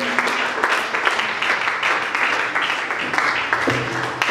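Warm applause at a religious wedding ceremony, many hands clapping steadily and loudly throughout, with a few cheers from the crowd mixed in.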